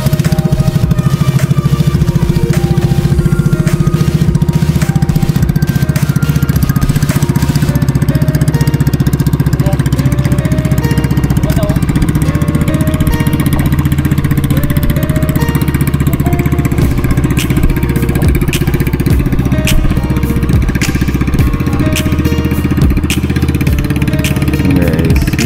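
Boat engine running steadily at close range near an island off El Nido, a loud continuous mid-pitched drone that holds for the whole stretch with no speech over it.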